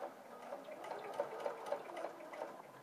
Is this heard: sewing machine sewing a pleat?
yes